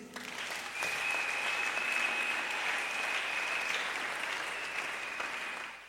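A church congregation breaks into sustained applause and cheering, a dense, even roar of many hands that swells and holds for several seconds before slowly easing off.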